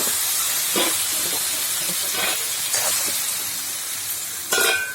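Chili powder, fenugreek and asafoetida hit hot oil for mango pickle, producing a loud steady hiss with soft intermittent crackles and a louder sputter near the end.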